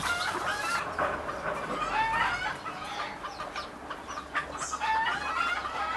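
A Silkie rooster clucks repeatedly in a garden, soft irregular clucks and chirps mixed with other fowl sounds against steady outdoor background noise.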